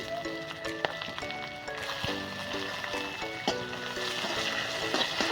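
Whole spices, cardamom and nuts frying in hot oil, a steady close sizzle with crackling pops, under a faint background hum and occasional clinks.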